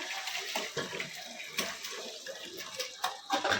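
Cooked goat head curry poured from a pot at home, a steady close liquid splashing and trickling with a few louder glugs, alone without talk.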